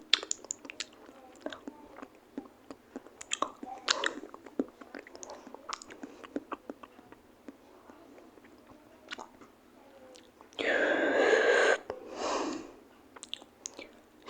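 Someone eats an iftar meal on the first day of Ramadan, chewing close by with soft clicking bites and wet mouth sounds, then a louder crunchy burst partway through, with no talking.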